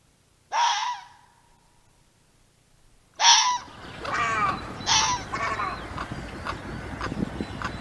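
Wild birds call in quiet Cyprus countryside at dawn, with a sharp honk-like cry, a pause, then several more harsh goose-like calls overlapping against faint background rustle.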